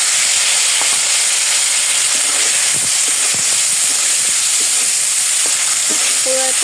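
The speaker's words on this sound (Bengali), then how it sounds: "এখন এই তেলে আলুগুলো দেব।" Old potatoes fry in hot oil for a village curry, a loud, constant sizzle and hiss close by with occasional soft clicks of stirring.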